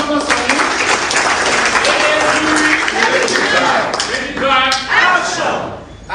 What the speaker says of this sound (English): Please, an round of applause for him.